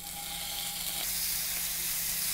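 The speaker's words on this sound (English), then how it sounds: "Put our bacon in." Steady, loud sizzling of bacon in a hot frying pan, a continuous crackling hiss with no voices.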